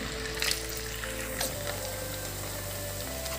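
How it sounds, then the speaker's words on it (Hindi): Kachoris made with rice and radish deep-fry in hot oil over a medium flame, giving a steady soft sizzle with a few faint pops and clinks throughout, no voices. "तो फ्लेम को मैंने मीडियम पे किया हुआ है, इसमें कचौड़ियों को डाल देंगे।"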